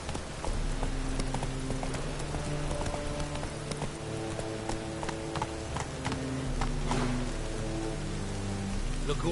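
Steady rainfall in The Witcher 3: Wild Hunt patters over a scene while a horse's hooves clip-clop along at a walking pace, with layered music underneath throughout.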